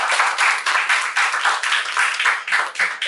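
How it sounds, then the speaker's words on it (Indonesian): A small group claps together in a room during a talk on the history of KPGR Lebah Gunung, a close, loud, even patter of hands that pulses slightly in waves for a few seconds. "Tepuk tangan sih"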